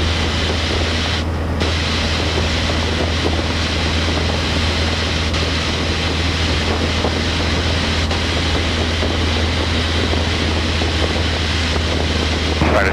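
Steady, loud drone of a Cessna 152 single-engine airplane at full power in flight, heard from inside the cabin as a constant low hum with wind noise and no pauses.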